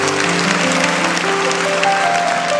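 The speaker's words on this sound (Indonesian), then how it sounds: "Kasih tepuk tangan untuk Tuhan." A church congregation applauds together during a sermon, a dense, steady wash of clapping that fills the room at close range without a break.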